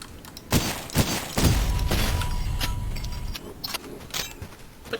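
Double barrel shotgun blasts in the retro shooter Cultic, sharp booming shots near the start followed by a long rumbling burst, with clattering mechanical and metallic clinks afterward.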